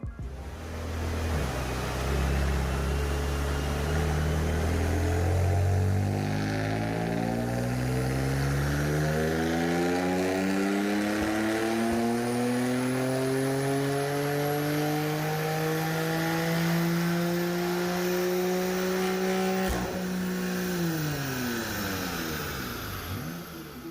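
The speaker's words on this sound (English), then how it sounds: "It sounds very nice with a full Remus system and that secondary cap removed" A BMW F80 M3 with a full Remus exhaust and the secondary cap removed revs hard on a dyno, its loud engine note climbing steadily through the gears for a long pull, then dropping sharply near the end.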